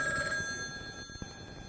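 An old landline telephone bell rings steadily in a house, a bright continuous trill that cuts off, followed by faint room noise and a soft click.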